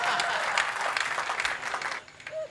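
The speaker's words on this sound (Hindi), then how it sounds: "अगले जवाब पे आपकी तालियां जरूरी है" Audience at a Hindi comic poetry gathering breaks into sustained, fairly loud applause that cuts off after about two seconds, leaving a brief quieter sound at the end.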